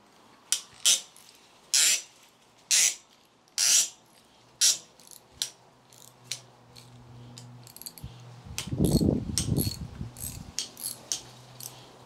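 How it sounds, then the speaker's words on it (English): Rusted bolts on a bracket of a 1984 truck being converted to an electric F-150 cruiser give a series of sharp, evenly spaced metallic clicks and creaks up close, then a brief rough scraping rumble near the end, with no talk. "These bolts are making noises and stuff because these bolts are probably rusted a little bit"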